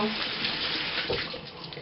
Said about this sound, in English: Okay, now that I've done that, I'm just gonna wash my hands off.